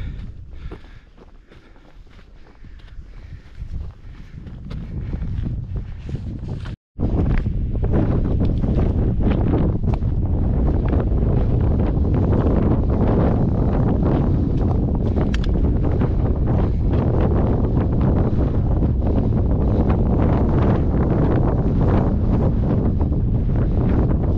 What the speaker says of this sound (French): le vent souffle de plus en plus fort